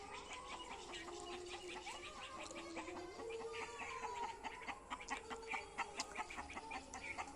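A chicken clucks repeatedly in a rural yard, a steady run of short, fairly close calls, with faint background noise and no speech.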